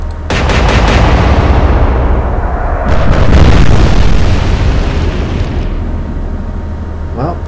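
Naval guns fire in the Atlantic Fleet video game, followed by shell hits: loud booming blasts and rolling explosion rumble that swell and then fade, with a brief clatter at the end.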